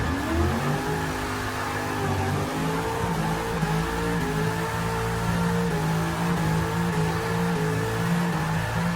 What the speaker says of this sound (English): I guess that big V8 just roaring away.